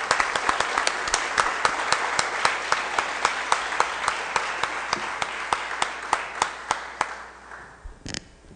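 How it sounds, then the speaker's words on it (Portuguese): Applause fills a council session hall, a crowd clapping steadily at a moderate distance for about seven seconds before it tapers off and stops. "Uma salva de palmas."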